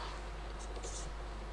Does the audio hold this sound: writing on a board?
yes